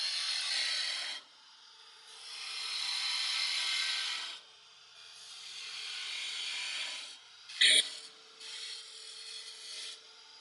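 Wood rasping and rubbing against a spinning mini baseball bat on a lathe, waste being taken off to round a bead, in several sustained bursts with short pauses and one sharp brief scrape near the end; no talking.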